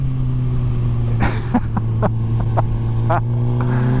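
Suzuki GSXR1000 K8 motorcycle engine holding a steady loud drone through a wheelie, with a few sharp transient bursts over it and a voice speaking in the clip.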